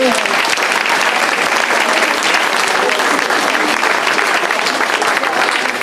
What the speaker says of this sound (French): merci aux danseurs, il faut les applaudir